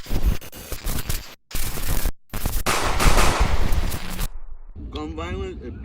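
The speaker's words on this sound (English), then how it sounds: "in an argument with a Lieutenant Drain, and they ended up having a duel on Christmas Day, 1817. This is how I imagine that went down" Imagined duel gunshots from Christmas Day, 1817, rendered as loud rapid bursts of gunfire over about four seconds with brief silent gaps, then cut off, followed by a short spoken reaction.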